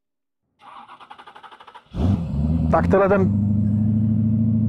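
A Boss Hoss motorcycle with a 5.7-litre Corvette V8 cranks with a rapid starter chatter, then catches and roars into a loud, deep idle with a sharp rev; someone speaks briefly.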